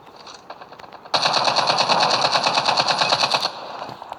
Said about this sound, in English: only took like few seconds to shoot down the UAV